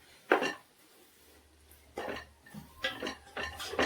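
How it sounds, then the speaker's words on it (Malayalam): A ladle stirs mint and curry leaves through a pot of Kozhikode-style fried chicken biryani, giving a few separate clattering scrapes against the metal with quiet pauses between them. "കുറച്ച് ചപ്പ് പുതിന കരിവേപ്പില അതും ഇട്ടിട്ട് ഇളക്കി കൊടുക്കുന്നു"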